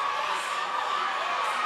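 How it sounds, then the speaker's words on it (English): A large crowd cheers and shouts continuously at an athlete games fitness competition. The roar is dense and loud and never breaks. "The crowd is wild right now."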